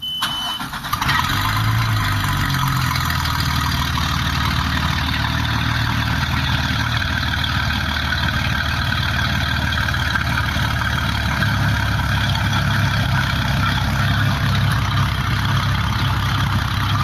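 Engine of a Sea Ray 195 Sport boat starting at a marine service shop, a brief cranking then catching into a loud, steady rumbling idle that continues for many seconds.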